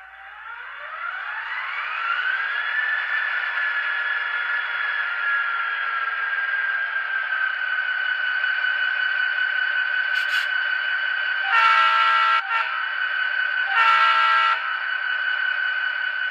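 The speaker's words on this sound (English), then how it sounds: "And now let's hear the locomotive come to life with the TCS Wow Sound" A LifeLike GP30u model diesel locomotive with a TCS WOWSound decoder spools up in a rising whine that settles into a steady engine hum. Two short horn blasts sound near the end.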